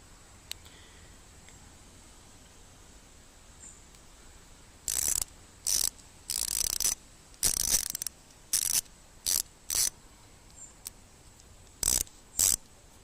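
Clicking of a US PRO by Bergen 1/4 inch stubby ratchet, heard alone and close in quiet as several short bursts of rapid ratcheting, each lasting under a second, with brief pauses between them.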